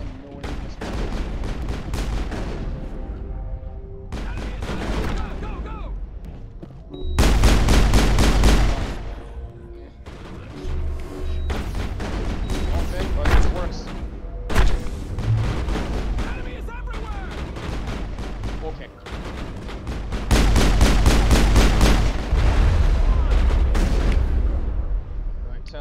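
Shotgun and pistol fire in the Mass Effect video game during Wrex's loyalty mission, loud repeated bursts of gunfire and blasts in clusters over game combat noise and music, with people talking over it.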